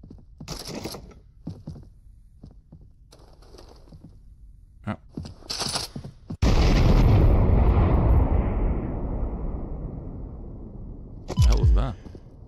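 In Trepang2, scattered game sounds and talk give way to a sudden, loud, close explosion whose deep roaring blast decays over several seconds before another brief thump near the end.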